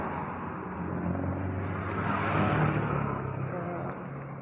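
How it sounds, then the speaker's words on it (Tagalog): Steady road and tire roar from a car being driven, a continuous broad rumble that swells slightly midway, with a voice speaking over it. "Ingay yung gulong."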